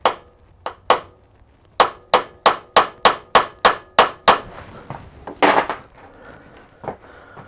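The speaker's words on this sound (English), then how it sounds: "Just make a little centre punch mark to give the drill a fighting chance." About a dozen sharp, ringing hammer blows strike a metal centre punch in a fairly even rhythm, marking a Harley-Davidson gearbox part for drilling, followed by quieter clinks and shuffling.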